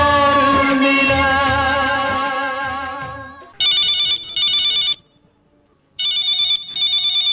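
A song fades out and a telephone rings for a Vividh Bharati radio phone-in request programme, two loud bursts of electronic double rings separated by a short pause.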